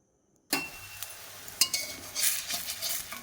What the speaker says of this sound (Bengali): এই তো ডাল আর ফুলটা একসঙ্গে মেখে নিচ্ছি।